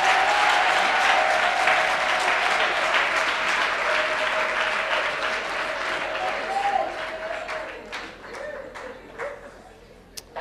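Church congregation clapping in sustained broadband applause at a jubilee service, loud and dense at first, then thinning toward the end into scattered claps with a few voices calling out.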